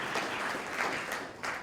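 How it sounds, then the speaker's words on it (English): Brief audience applause at a talk by an Israeli Knesset member, a steady clapping wash of even loudness with no one speaking over it. "I think you deserve to give yourself a round of applause"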